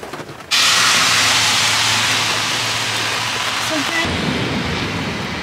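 Thunder from a very close lightning strike, a loud broadband crash that starts abruptly and rolls on steadily for several seconds, with heavy rain hiss beneath and a brief voice near the end.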